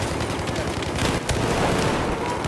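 Dense, continuous automatic gunfire from a Battlefield 4 hardcore Conquest match with 64 players fills the scene, loud and unbroken, with overlapping rifle bursts and distant booms blending into a heavy battlefield roar.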